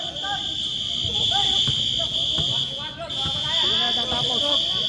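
At an amateur basketball game, the end-of-play buzzer holds one steady, piercing tone almost without a break, loud over excited voices of players and onlookers talking and shouting.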